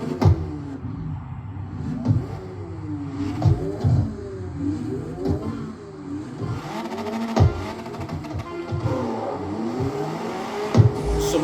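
Car engines rev and whine during a race in the video game Street CarX Online, with repeated rising and falling engine pitch sweeps and occasional sharp bursts over a steady motor drone.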